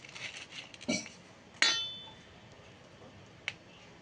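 A veg sandwich being cut on a plate gives a few sparse, sharp clinks of a knife against the dish, spread out in a quiet room, with no talking.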